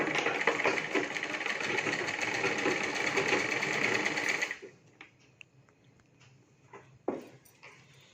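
Sewing machine stitching a lehenga lining, a fast steady mechanical chatter for several seconds that stops abruptly, followed by quiet handling noises and a soft knock.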